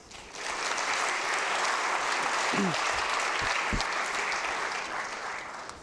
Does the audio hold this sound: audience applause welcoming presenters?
yes